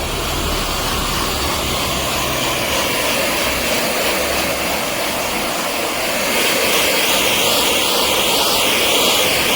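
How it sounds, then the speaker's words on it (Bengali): Hair dryer blow-drying hair section by section in a unisex salon, a loud steady rushing whoosh of air that holds constant throughout and swells slightly toward the end. "ব্লো ড্রাই সেটিংটা স্টার্ট হবে একটু তোমরা দেখে নাও"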